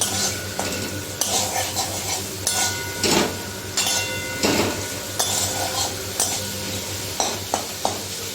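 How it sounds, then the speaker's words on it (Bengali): Capsicum frying in a kadai with a little salt, stirred with a metal spoon: steady close sizzle under repeated scraping and clinking strokes against the pan, with a few louder bursts. "ক্যাপসিকামটাও অল্প একটু সেদ্ধ হওয়া পর্যন্ত রাখবো কড়াইতে, নাড়াচাড়া করে চাপা দিয়ে দেবো।"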